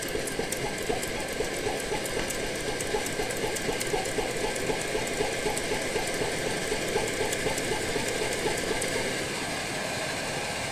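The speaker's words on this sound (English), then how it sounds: "You can probably hear a slight chugging. Very, very rapid chug." An Omnifuel camping stove with a flame plate burns during preheating, giving a steady roaring hiss with a very rapid, faint chugging pulse running evenly throughout, with no talking.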